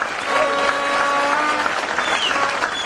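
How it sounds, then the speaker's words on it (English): Steady applause from a crowd at a political rally in Kenya fills the whole stretch, dense and even, with some tonal hum running underneath. "We need to give you a big, big clap"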